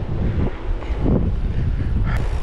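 Headwind buffets a cyclist riding along the Danube, a steady loud roar of wind across the microphone with rumbling gusts and no voices.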